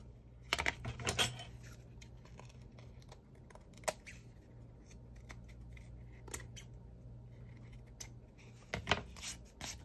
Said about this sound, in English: I'm gonna have to use my X-Acto knife,